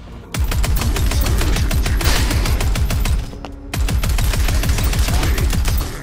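Rapid, loud automatic gunfire in the video game Postal Brain Damaged, a steady stream of close shots rattling almost without pause, broken by one brief gap before resuming.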